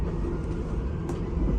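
Steady low rumble and rolling drone inside a compartment of the Argo Semeru train while it runs, continuous and even with a faint higher hiss, no talking.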